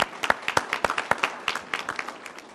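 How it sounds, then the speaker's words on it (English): Applause from a press-conference audience on crime initiatives: a brief burst of scattered, fairly light hand claps, moderately near, fading slightly toward the end. "If we can give him a round of applause again."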